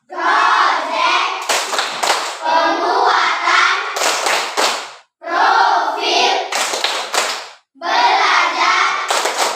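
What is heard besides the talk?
schoolchildren doing rhythmic clapping routine tepuk T5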